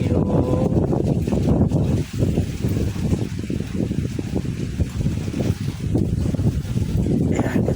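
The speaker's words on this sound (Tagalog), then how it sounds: "Grabe ang hangin." Strong, steady wind roars and buffets the microphone throughout, with rumbling gusts and a dense low-frequency blustering that never lets up.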